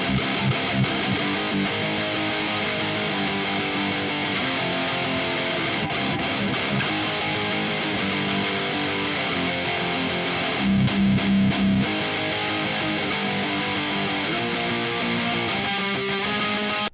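An electric guitar runs through the red channel of an EVH 5150 EL34 50-watt amplifier, producing thick, heavily distorted chugging riffs with chords and palm-muted bursts that play continuously and loudly, without any talking.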